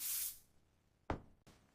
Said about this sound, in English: I spray perfume.